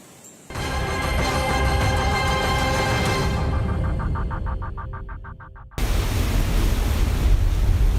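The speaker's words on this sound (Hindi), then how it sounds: "समंदर में ऊंची लहरें उठ रही हैं" High sea waves surge at Mangaluru, Karnataka, during rain at high tide, a loud roaring wash of surf with heavy wind buffeting, broken by an abrupt cut partway through before the roar resumes.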